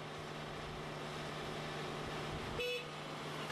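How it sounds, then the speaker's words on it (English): Short horn blast from a Volvo wheeled excavator loading a truck, a brief tonal honk sounding once near the end over a low, steady engine hum. "Use the horn to stop him."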